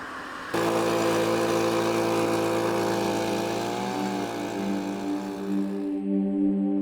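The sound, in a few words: leaf blower running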